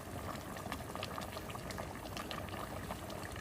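Rice boils in water in a cooking pot, half-cooked. A faint, continuous bubbling and hiss goes on without pause.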